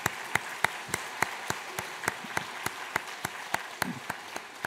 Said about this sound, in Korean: 우리 박수로 한번 환영하고 축복하겠습니다.